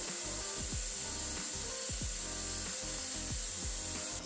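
A steady, loud grinding whir with repeated rasping passes of a folding knife blade against a wall-mounted grinder's wheel, continuous throughout with no voices.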